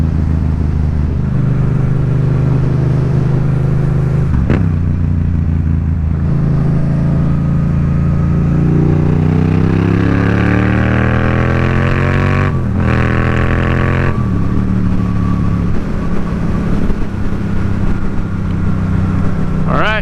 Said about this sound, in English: I wonder if you can hear the bike through the microphone also.